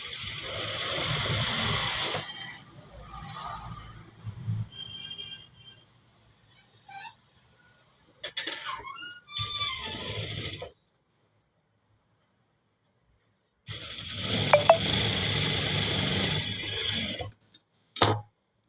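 Sewing machine running in bursts while stitching the shoulder seam of a school uniform, with a few short whirring runs separated by pauses and light handling noise, close and alone.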